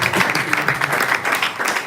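A small group at a graduation ceremony claps steadily for a couple of seconds, dense overlapping handclaps at close range.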